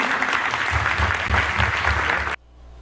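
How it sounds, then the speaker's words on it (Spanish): Studio audience applause for a young man who overcame stage fright, a dense burst of clapping at close, even loudness for just over two seconds before it cuts off abruptly to near silence. "Muy bien, un aplauso para él."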